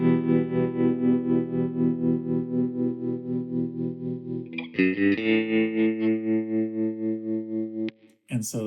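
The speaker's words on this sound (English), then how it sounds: "guitar with just a tiny bit of distortion, like they call it edge of breakup, just a little bit of distortion" An electric guitar with a touch of edge-of-breakup distortion and a vibrato effect plays sustained, wavering chords, changing chord midway and again near the end, with a warm, slightly gritty twang and no voices.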